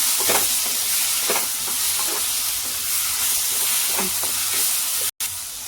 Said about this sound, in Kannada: ಹಾಕೊಂಡು ಸ್ವಲ್ಪ ಮಿಕ್ಸ್ ಮಾಡ್ಕೊಳ್ಳಿ ಚೆನ್ನಾಗಿ